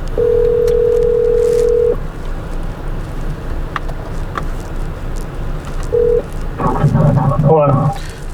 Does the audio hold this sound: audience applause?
no